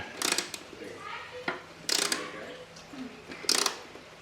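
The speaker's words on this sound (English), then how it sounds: "I'll start using this ratchet" A hand ratchet clicks in three short bursts while tightening bolts on the fairing of a 1994 Honda club-style motorcycle, close and fairly loud, with quiet gaps between strokes.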